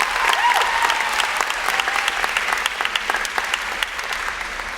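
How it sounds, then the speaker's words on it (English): Sustained audience applause for Nora at a joint Boys State and Girls State inauguration ceremony in Massachusetts, dense, even clapping from a large crowd filling the room for several seconds. "So round of applause for Nora."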